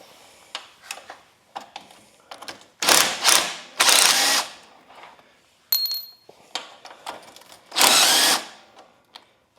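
A hand ratchet takes half-inch bolts off a plastic transmission. It clicks in quick close bursts, broken by a few louder, longer grinding spells of turning and clattering metal.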